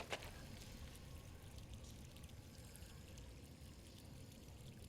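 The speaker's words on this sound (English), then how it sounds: "Oh, now the water is here." Water flowing in the King's Bounty 2 video game, a continuous gushing, pouring rush that holds steady at low volume throughout, with no speech.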